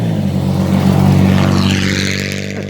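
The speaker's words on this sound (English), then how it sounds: "There's a truck." A truck drives past on the road close by, a loud, sustained engine rumble and whir that swells and then fades over a few seconds.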